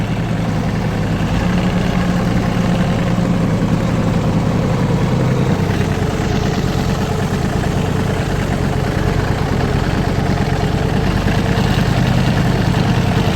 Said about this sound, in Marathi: बघा ट्रॅक्टर कसं उचलतो शिस्तीत निघालोय.